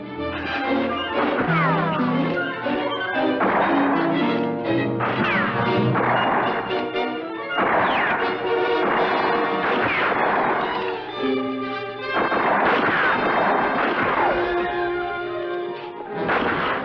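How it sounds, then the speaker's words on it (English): Gunfire and crashing impacts in a western movie fight, repeated sharp bangs scattered through a loud, busy mix of dramatic music and shouting that continues throughout. "Keep firing, you two!"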